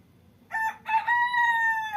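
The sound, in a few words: rooster crowing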